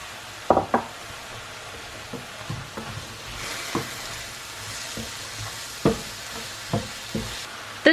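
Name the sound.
onions sautéing in a pan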